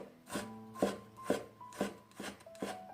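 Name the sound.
knife mincing fresh ginger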